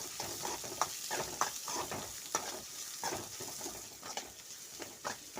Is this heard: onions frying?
yes